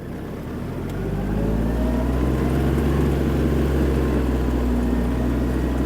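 A Kubota KL-25 mini tractor drives at top speed, its engine a steady loud low drone with a faint rising whine, constant and close with no talk.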